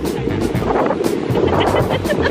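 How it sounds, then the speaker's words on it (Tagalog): Waves washing onto a Boracay beach, a steady close surf wash with heavy wind buffeting the microphone, with no clear speech. "The waves are not so... It's cutie waves for real."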